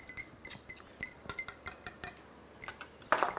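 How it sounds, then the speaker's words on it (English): Brown sugar and corn flour are whisked in a bowl, giving rapid, rhythmic metallic clinks of the whisk against the bowl that stay close and fairly loud, pause briefly, then resume more vigorously. "And I'm just going to whisk that in."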